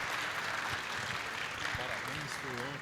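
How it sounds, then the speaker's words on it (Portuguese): Audience at an industrial lecture gives a steady round of applause, a continuous wash of clapping with a few voices speaking faintly beneath it. "Uma salva de palmas."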